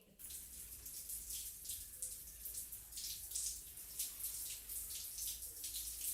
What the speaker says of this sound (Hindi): फिर तोड़ने के बाद मशरूम बेड पर थोड़ा पानी छिड़कें।